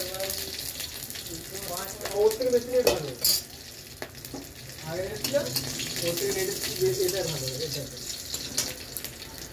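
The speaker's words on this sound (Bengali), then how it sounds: "তেল গরম হয়ে গেছে, কালো জিরে ফোড়ন দিলাম, লঙ্কা কাঁচা লঙ্কা ফোড়ন দিলাম" Black cumin seeds and green chillies sizzle in hot oil for an aloo chorchori, with a crackling fry, a few stirring scrapes and brief tap-water noise in the background.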